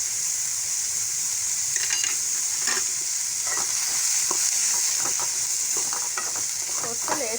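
Beetroot masala fries in a pan while turmeric, salt and coriander powder are stirred through it: a steady sizzle with scattered scraping strokes of a spoon, close and continuous.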